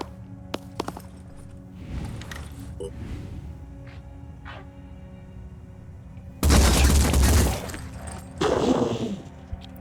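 Gunfire in the tactical video game Phoenix Point: a few sharp cracks early, then a loud burst of rapid shots, followed by a second shorter volley, with quiet game ambience between.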